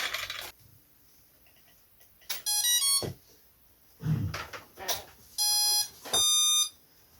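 A Radiolink A560 RC transmitter gives off several short bursts of high, steady electronic beeping, loud and clear, with quiet gaps and a few soft handling knocks between them.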